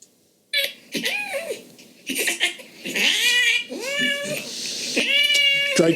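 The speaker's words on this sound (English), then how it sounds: "all the files are recordings of cat noises." A cat meows repeatedly, loud and close, a series of drawn-out, wavering cries with short gaps between them.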